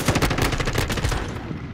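Rapid, sustained automatic gunfire from Modern Warfare 2, a dense run of evenly spaced shots that stays loud and close the whole way through.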